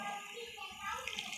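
Vegetable cooking water is poured into sautéing pav bhaji vegetables in a pan, making a steady rushing, sizzling hiss with a voice talking over it.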